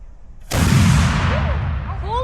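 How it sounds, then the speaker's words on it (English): A cannon fires grape shot at a Battle of Camden reenactment in South Carolina, a sudden loud boom that rolls on and echoes, with shouting voices rising behind it. "So they start peppering the British with grape shot."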